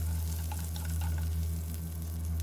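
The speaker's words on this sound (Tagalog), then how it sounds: "Ngayon ay maggisa naman tayo ng bawang." Garlic sautéing in a pan for pancit canton gives a steady close sizzle with light crackles over a low hum, no one speaking.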